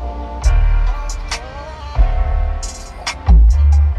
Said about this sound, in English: The music on this particular car is courtesy of Harman Kardon.